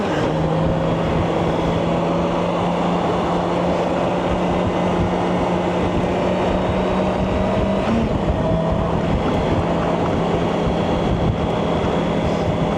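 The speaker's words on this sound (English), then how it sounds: "You see all the wind blowing?" Heavy wind buffeting roars steadily over a BMW K1600 GTL touring motorcycle riding near Albuquerque, New Mexico, a loud continuous rush with a low engine hum underneath and no break throughout.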